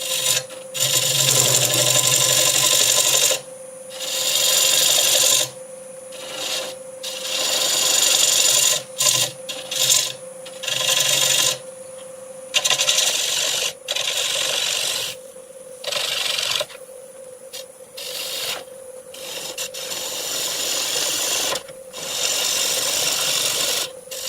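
A tenon being turned on the bottom of a Madrone natural edge bowl on a lathe, with loud, bright rasping cuts starting and stopping in bursts over a steady motor hum.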